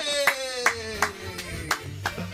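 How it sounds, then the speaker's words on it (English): Hand clapping during a two-player Super Mario 3D World co-op session: about six sharp, separate claps at an uneven pace, heard over a steady tonal game music bed. "You just clapped."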